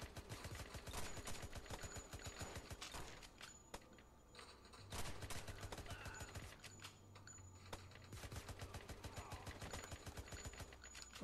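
Rapid bursts of gunfire from the VR shooter game Crime Cracker VR on Pico 4, dense repeated shots in sharp clusters with short pauses between volleys, loud and close throughout.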